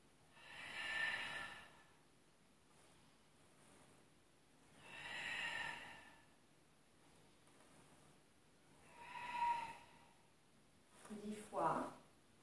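Slow, deep breaths during a Pilates session on a Swiss ball: three long, airy exhalations of a couple of seconds each with pauses between, then a shorter sniff-like breath and a snort at the end. No words are spoken.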